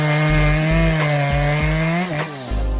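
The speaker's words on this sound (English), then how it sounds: "The Makita EA7900PRZ1 offers unmatched efficiency when it comes to felling large trees." A Makita EA7900PRZ1 chainsaw cutting into a large tree, a loud continuous buzzing whine with small pitch dips as the chain bites, close and alone.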